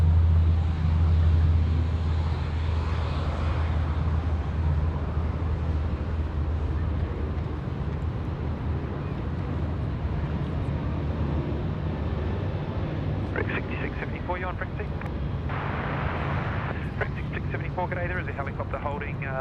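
A plane passes over the airfield on the downwind leg at night at Sydney Airport, a steady loud broadband jet roar with deep rumble throughout, with a voice talking faintly over it near the end.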